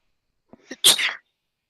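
A single sharp sneeze from a person in an online board meeting, preceded by two short intakes of breath, close and clear against silence.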